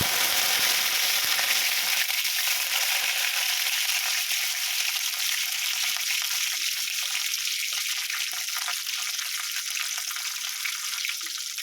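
Shallots and curry leaves fry in oil with a steady crackling sizzle, a low thump at the start, then an even hiss throughout.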